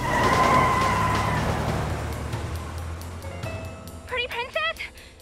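A cartoon car whines as it pulls away, then gives a rough, fading skid, with a brief animated voice breaking in near the end.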